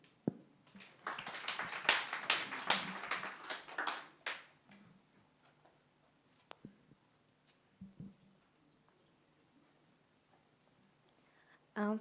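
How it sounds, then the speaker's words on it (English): A conference audience applauds a speaker at a women's transport event in Africa, a burst of clapping for about four seconds that quickly dies away, leaving a quiet room with a few stray taps. "I think we should give her another round of applause"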